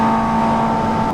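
A Carbon Ninja H2R motorcycle makes a light fifth-gear pull at about quarter throttle, giving a loud, steady, close engine drone with a constant pitch and no voices over it.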